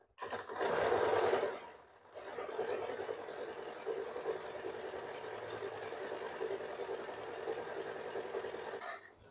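An electric sewing machine stitches a bra-cut blouse in a steady, whirring run, with a louder burst at the start, then a brief pause, then continuous stitching, close and alone.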